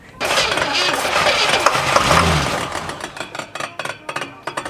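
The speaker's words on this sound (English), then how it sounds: "Oh, she's misfiring a little bit, but the fact that she's firing." A barn-find Oldsmobile 442 runs loud and rough up close, its note uneven and stumbling as it misfires, then settling into choppy, pulsing idle beats toward the end.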